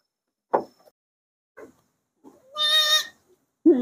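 A single loud bleat from a male crossbred breeding goat, wavering and nasal, rises around the middle, with a few brief scuffs and a short grunt-like call near the end.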